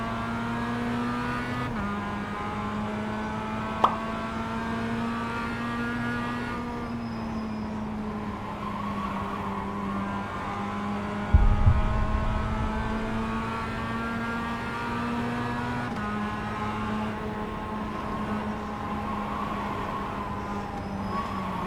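Race cars at the start of an iRacing race, a steady engine drone from the driver's car with pitch changes through gear shifts, other cars audible nearby and a brief thump midway.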